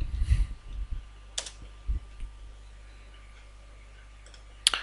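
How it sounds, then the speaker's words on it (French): Keys on a computer keyboard are tapped in a short burst of close clicks, followed by a quiet pause and a couple of isolated clicks against a faint background hum. "je clique ici sur démarrer, exécuter, je tape MMC"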